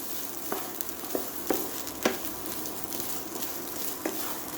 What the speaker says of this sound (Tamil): ஆஃப் பண்ணிவிட்டு இது எல்லாத்தையும் ஒன்றா கலந்துடுங்க